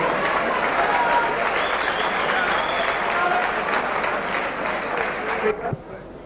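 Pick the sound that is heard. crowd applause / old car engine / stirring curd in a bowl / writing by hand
crowd applause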